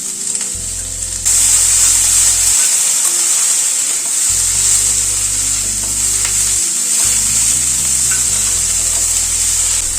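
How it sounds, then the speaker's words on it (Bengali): Onion and ginger paste fry in a pan for a pigeon pea dal, giving a loud, steady sizzle that swells after the first second, with a low hum beneath and light stirring scrapes. "আদা বাটাটা দিয়েও জাস্ট একটুখানি নাড়াচাড়া করব"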